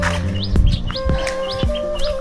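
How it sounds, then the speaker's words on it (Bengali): Small birds chirping in the hills of Dawaipani near Darjeeling, with bright, rapid tweets repeating every half second or so, clear and fairly close over a quiet outdoor background. "পাখির কিচিরমিচির"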